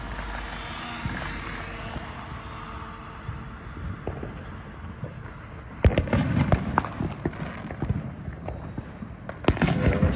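Fireworks bang through a New Year's Eve neighborhood in Hawaii, a steady crackle and rumble of distant blasts giving way to louder, closer booms in bursts near the middle and end.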